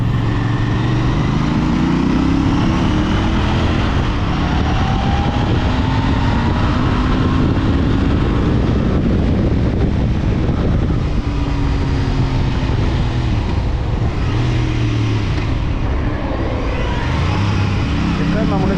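A Royal Enfield Bear 650 motorcycle rides in first gear, its engine loud and close with rising and falling revs throughout, while a rider talks over it.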